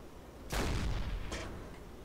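Two deep booming deck-gun shots from a submarine firing at a ship in Silent Hunter IV, the first loud and rolling, the second a shorter report about a second later, heard alone without talk.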